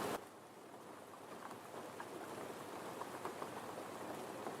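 Rain falls in a steady, soft patter at a low level, with a few faint drops standing out above the constant hiss.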